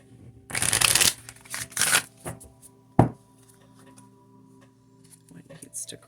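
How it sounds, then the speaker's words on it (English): Tarot cards are shuffled close up in bursts of crisp riffling, with a sharp tap midway and softer handling sounds afterward, near and fairly quiet. "I'm going to shuffle."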